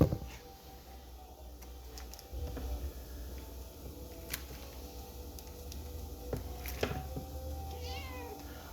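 Kittens eat close by, with soft wet chewing and ticking mouth sounds and a few faint meows scattered over a quiet indoor background.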